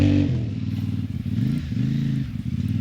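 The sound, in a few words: CFMoto 450 MT motorcycle riding slowly on sand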